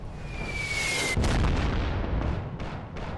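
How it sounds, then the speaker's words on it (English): Big bomb blast in the war game Armored Brigade 2, a sudden heavy boom that follows a high whistling tone and trails into rumbling debris, loud and with no voices. "Oof, big bomb."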